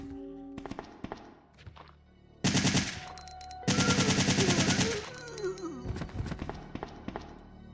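Gunfire in Resident Evil 3, with two loud rapid bursts of automatic fire between scattered single shots and thuds, close and dominant.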